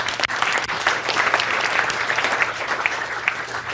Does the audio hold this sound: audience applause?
yes